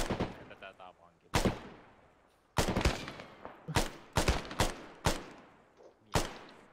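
Gunfire in the Arma 3 video game: sharp, loud shots and blasts in irregular bursts with booming echoing tails, spaced across the clip.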